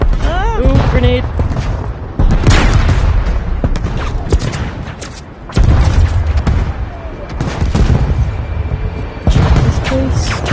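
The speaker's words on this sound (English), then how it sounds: "Ooh, grenade." A grenade explosion in the shooter video game Zero Caliber 2: heavy, close booms mixed with bursts of gunfire in loud, repeated waves, with short lulls between them.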